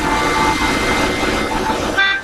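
Horn honking from a vehicle in the Lego Batman 3 video game, a sustained tonal blare mixed into busy game noise, ending with a sharper, louder toot.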